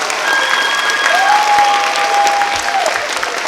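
A loud, steady round of audience applause for department award winners at a 2021 high school legacy ceremony, with a thin, sustained tonal whine drifting over the clapping.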